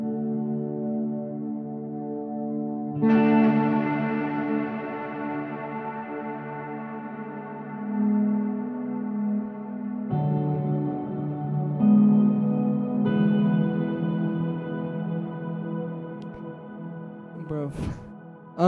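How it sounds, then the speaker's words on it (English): Electric guitar run through effects units with a murky, underwater-like tone: a few sustained chords and notes struck one after another, each ringing out and slowly decaying, close and fairly loud. "I'm not sure why it sounds like this guitar is kind of like underwater."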